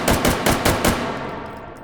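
An ACR 5.56 rifle fires five quick semi-automatic shots in the VR shooter H3VR, sharp cracks spaced evenly at a fast trigger pace, then a long echoing decay.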